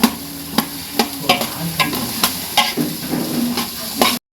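Potatoes fry in a pan with steady sizzling, punctuated by regular scraping knocks of a spatula roughly every half second, close and fairly loud, no talk.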